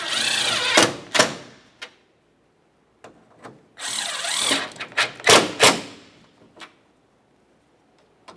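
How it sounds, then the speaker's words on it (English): Short whirring bursts of a power tool run down the grille mounting nuts on a 1994-2002 Dodge Ram 2500, a few close, loud spurts broken by quiet gaps and light clicks. "Now we can tighten each one of these mounting nuts."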